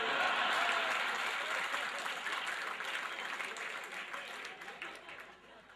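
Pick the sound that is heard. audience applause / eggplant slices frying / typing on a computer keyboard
audience applause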